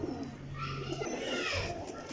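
Flying-breed pigeons kept for racing coo close by, a dense continuous throaty warble of several birds overlapping, steady and moderately loud with no talk.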